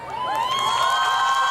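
An audience at the PTC Indore cultural event claps and cheers, a loud continuous crowd burst with sustained whooping tones over it.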